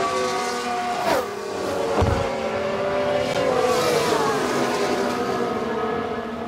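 An Alpine Formula 1 race car in the racing game F1 Manager 22 produces loud, high-pitched engine whine with sweeping pass-by pitch shifts and a brief tire squeal, alongside other cars' engines.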